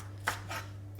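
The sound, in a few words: chopping baby spinach leaves with a knife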